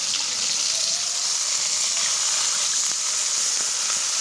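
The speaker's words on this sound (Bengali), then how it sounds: "আমগুলো খুব ভালো করে ভেজে নিয়েছি, এবার দিয়ে দেবো জল।" Water pours into a pan of fried green mango pieces, a steady broad hiss and gush running evenly throughout, close and fairly loud, with no talking.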